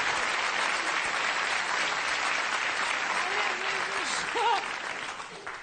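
An audience applauding at a comedy show, sustained dense clapping that fills the clip and starts to fade toward the end, with a performer's voice speaking over it.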